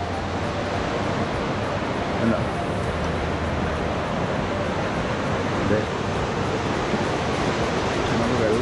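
A forest waterfall at Anakulam in Mankulam, heard as a steady, broad roar of rushing water that fills the whole scene. A few brief spoken words come through faintly over it.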